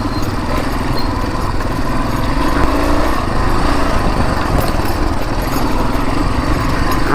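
Engine of a vintage Yamaha XT250 motorcycle running at steady revs, a loud, buzzy, continuous drone with a rough high-pitched edge, close to the listener and with no talk over it.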